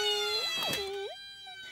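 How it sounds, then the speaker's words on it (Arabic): A toy fire truck gives a short electronic siren, its pitch sweeping up and down in a couple of quick wails before settling into a steady tone, clear and fairly close, with no talk over it. "إنه صوت سيارة الإطفاء"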